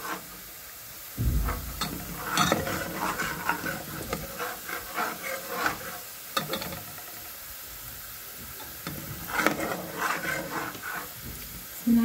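Onions frying in a pan, a continuous close hiss and crackle of sizzling with scraping stirs and occasional louder bursts, steady throughout.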